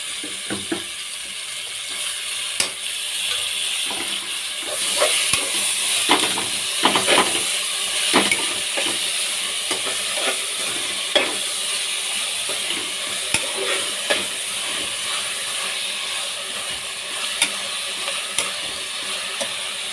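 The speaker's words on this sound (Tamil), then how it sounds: "தக்காளி நல்லா வதங்கிடுச்சுப்பா" Tomatoes sautéing with onions in a pan for chicken biryani give a steady crackling sizzle with scattered clicks and scrapes of stirring, no talk.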